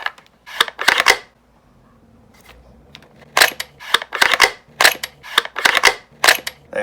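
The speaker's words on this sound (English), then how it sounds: "It makes a very satisfying sound when you sheath the knife." A plastic sheath snaps shut repeatedly as a knife is pushed in, giving a series of sharp, close clicks and clacks in quick bursts with short pauses between them and no voices.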